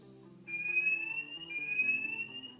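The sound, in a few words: detector alarm during heat test with XTR2 tester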